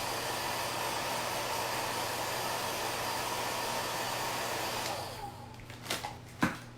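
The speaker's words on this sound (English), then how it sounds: "How about I dry it with the hair dryer?" A hair dryer blows in a steady, full rush of airflow that holds for about five seconds, then shuts off and fades into a few faint clicks and knocks.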